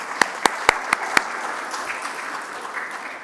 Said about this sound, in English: another round of applause for Jen and her opening remarks